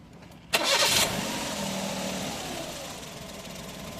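A Suzuki Stingray minivan engine cranks and catches with a sharp burst, then settles into a steady idle that continues to the end.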